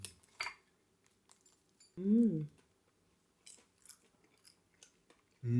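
Someone eats a buttery croissant during a Paris bakery outing: a few small crisp bites and chewing noises come up close and faint, with short bursts of talk between them.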